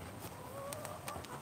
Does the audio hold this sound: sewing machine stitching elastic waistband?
no